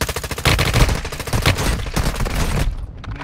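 Sustained automatic gunfire from an M9 in the video game Warzone on Rebirth Island, a loud, dense rapid stream of shots lasting about three seconds before cutting off.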